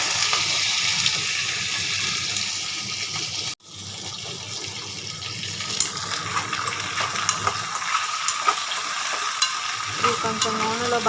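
Onions drop into hot oil with curry leaves, giving a steady loud sizzle, a brief break, then lighter frying crackle with scattered pops and stirring scrapes, and no voices.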